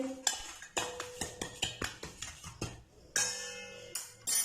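Cumin seeds and salt are mixed in a large bowl, with a rapid, steady series of sharp spoon clinks and scrapes against the bowl, close and clear, with no talk.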